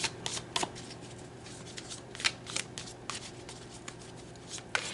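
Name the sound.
tarot cards being shuffled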